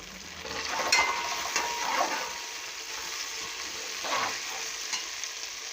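Kadhi spices, including turmeric, dried coriander, ajwain, kalonji, cumin, black pepper, cloves and black cardamom, dropped into a hot pan and sizzling steadily up close, a continuous crackling fry with faint stirring scrapes.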